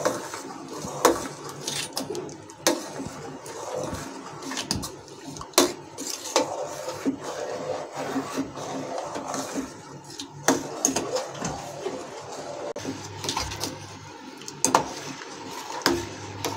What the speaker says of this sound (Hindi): और इसे मैं अच्छे से मिक्स कर लूंगी।